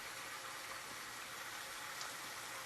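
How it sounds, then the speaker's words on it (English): Steady rushing of tap water flowing into an aspirator in a continuous stream, a constant broadband hiss with no pauses. "So first I turn on my water. I want to get a pretty good stream going."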